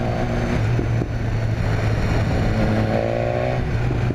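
A BMW S1000R motorcycle fitted with an Akrapovic exhaust idles and blips its throttle, its loud, steady engine drone broken by a few short revs and faint crackles.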